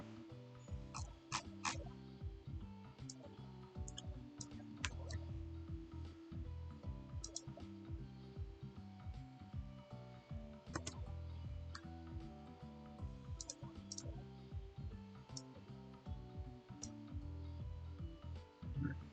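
Quiet typing on a computer keyboard while entering commands, with irregular bursts of light key clicks and taps running throughout, faint and close.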